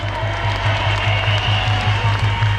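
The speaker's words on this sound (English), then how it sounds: "please put a round of applause together for the woke mama, Melissa George" Rally crowd in Sydney applauding a speaker: a dense, steady wash of many hands clapping at once, fairly loud and continuous, with little voice heard over it.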